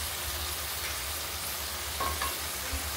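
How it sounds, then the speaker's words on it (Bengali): Chicken sizzling and being stirred in a pan with turmeric, coriander powder and salt, a steady low frying hiss with a few scraping stirs near the end, no talking. "তো এবারে চিকেনটাকে ভালো করে এই মশলার সঙ্গে কষিয়ে নেব।"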